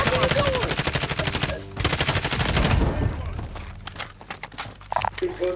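Gunfire in Call of Duty: Modern Warfare on Verdansk: a long, loud automatic burst of rapid shots up close, then a pause, another sustained burst, and scattered single shots trailing off. Talk is heard under the shooting.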